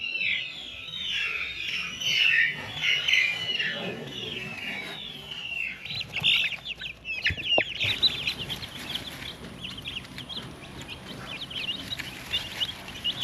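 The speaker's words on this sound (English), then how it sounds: "So here's our baby chicks and our baby ducklings when we first got them." Baby chicks and ducklings about a week old chirp and peep continuously in a dense, close chorus, with a few louder cheeps standing out and a brief knock partway through.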